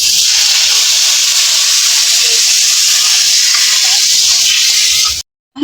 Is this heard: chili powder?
yes